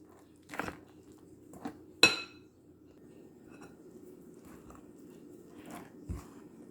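Blueberry scone dough is stirred in a bowl, giving a few scattered scrapes, soft thuds and one sharp clink of spoon against the bowl, separated by quiet pauses.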